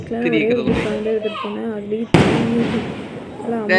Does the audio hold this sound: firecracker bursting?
yes